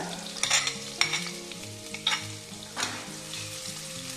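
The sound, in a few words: garlic and ginger frying in a pan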